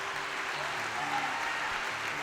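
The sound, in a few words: church congregation applauding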